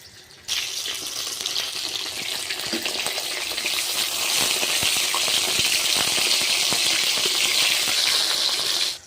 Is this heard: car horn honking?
no